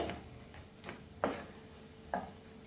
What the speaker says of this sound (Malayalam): ഇത് നമുക്ക് നന്നായിട്ട് വറുത്തെടുക്കാം നമുക്കിതിലേക്ക് ഞാൻ ഒരു വലിയ സ്പൂണ് മുളക് പൊടിയാണ് ചേർക്കുന്നത്